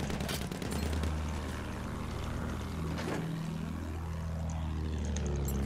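A plane flies past in the video game Battlefield 1, a steady propeller drone with a pitch sweep as it passes, over constant battlefield noise and distant gunfire, with no talking.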